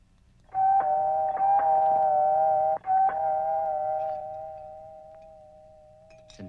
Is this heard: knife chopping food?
no